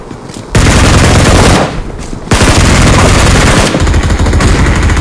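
Loud machine gun fire in the BGMI video game rattles in sustained rapid bursts, near and dominant, with a short pause between long volleys and no talk.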